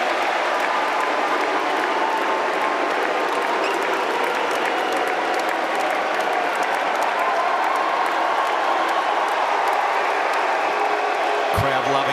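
Steady, sustained applause from a large tennis crowd at a United Cup mixed doubles match in Amsterdam, filling the whole stretch at an even level with some cheering mixed in.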